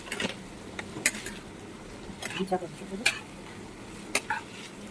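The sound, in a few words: stirring chicken chow mein ingredients in a pan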